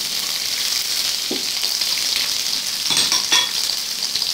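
Onion and garlic fry in a pan with a steady, close hiss that fills the whole stretch, broken by a couple of brief clinks and stirring scrapes near the end.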